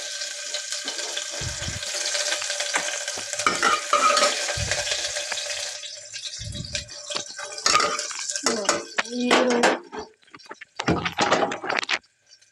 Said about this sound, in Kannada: ಇವಾಗ ಈ ಕಡೆ ಒಂದು ಕುಕ್ಕರ್ಗೆ ಸ್ವಲ್ಪ ಎಣ್ಣೆ ಹಾಕಿದ್ದೆ. ಒಂದು ಈರುಳ್ಳಿ